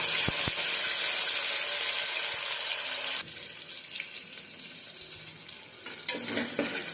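Onions, with dried red chillies and curry leaves, sautéing in a pan for moringa rice, giving a steady sizzle with stirring that drops quieter partway through, with no talking.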